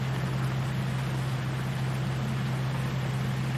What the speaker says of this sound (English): The Steyr tractor, it is smooth sounding